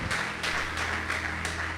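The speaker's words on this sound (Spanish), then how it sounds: "Denle un aplauso" An audience claps in a quick, even rhythm, the bursts coming about three times a second, fairly faint and steady.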